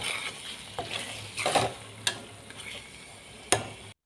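Green chillies and curry leaves sizzle in hot oil in a pan while a spoon stirs them, giving soft frying hiss with several sharp scrapes and taps of the spoon against the pan.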